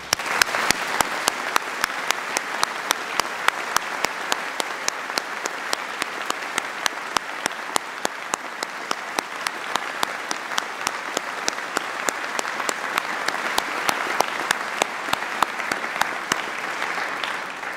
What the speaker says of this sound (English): offering a special round of applause for our 5 honorees